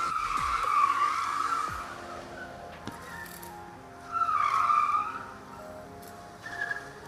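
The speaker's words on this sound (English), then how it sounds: "Gymkhana is in progress." Cars skidding at a gymkhana motorsport event, tires squealing in two long bursts with a shorter one at the end, engines droning beneath at moderate distance.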